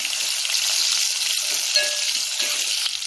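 Onions and green chilies sizzling in hot oil in a pan for a Telangana mutton curry, a steady loud frying hiss with a few faint clinks, no voices.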